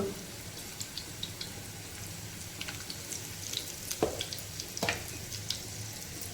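Crushed garlic sizzles in hot oil in a pan for a radish-greens stir-fry, a steady soft frying hiss with a few brief crackles and pops, close and alone with no talking.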